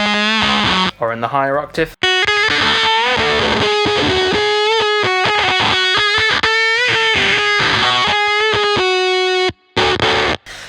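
Distorted electric guitar playing a riff through a Fuzz Factory fuzz pedal, thick and buzzy, chugging in a quick rhythmic pattern with brief pauses, and a voice speaking briefly over it.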